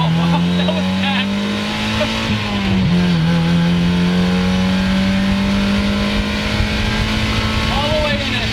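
A Mazda Miata NA drives flat out on a race track, its engine droning loudly and continuously with pitch shifts through gear changes and corners, heard from inside the car while a person talks over it.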